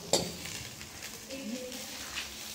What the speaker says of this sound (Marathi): अजून फ्राय करावंच लागतं ना